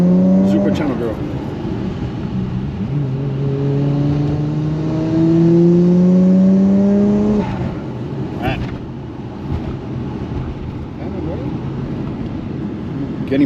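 A Nissan R34 GTR V-spec in Midnight Purple revs up through rising engine pitches. The engine is loud and sustained, with repeated climbing pulls, and a voice speaks over it.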